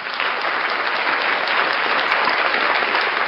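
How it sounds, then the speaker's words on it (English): An audience claps in a brief, dense burst of applause, steady and fairly loud for a few seconds. "Round of applause for Backyard Buffet."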